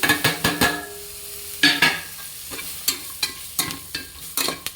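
Masala frying with coriander powder in a pan for a rustic-style goat tripe curry: sharp spoon-against-pan stir strokes come in irregular bursts over a low, constant sizzle, and no one speaks.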